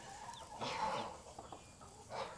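Backyard farm hens clucking near the milk stand where a new egg was laid, a run of soft, fairly close murmuring clucks rising and falling over steady outdoor background.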